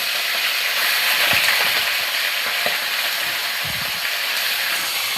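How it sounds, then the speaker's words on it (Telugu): Tempering spices crackle and sizzle in oil in a kadai, a constant hiss with a couple of low knocks from the pan, close and fairly loud with no voices. "బాండీ పెట్టుకొని ఆయిల్ పోసుకున్న తర్వాత ఇలా పోపు దినుసులు వేసేయాలి"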